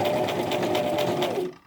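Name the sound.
Brother LX3817 sewing machine stitching a buttonhole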